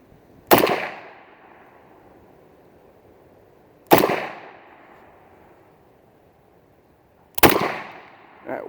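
Three sharp, loud gunshots from a Norinco Tokarev TT33 pistol firing 7.62x25 rounds, spaced a few seconds apart, each with a crisp crack and a short ringing decay outdoors.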